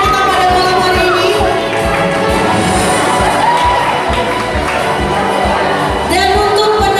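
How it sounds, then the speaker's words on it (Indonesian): A loud crowd at an Indonesian Independence Day thanksgiving gathering cheers and applauds the three winners of a nasi goreng cooking contest, with dense sustained clapping and shouting and a few whoops. "Kita kasih tepuk tangan untuk ketiga juara lomba masak nasi goreng kita pada malam hari ini."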